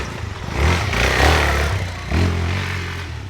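A Suzuki DR-Z4 motorcycle engine revs loudly and close by, rising in two throttle blips with a steady rumbling idle between them and nothing else heard.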